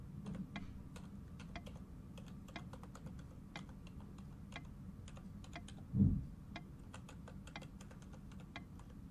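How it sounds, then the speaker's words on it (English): Computer keyboard keys hit rapidly and repeatedly while playing a game, a dense run of quiet clicks with one louder thump midway and no talking. "I guess we just kinda have to spam the keyboard."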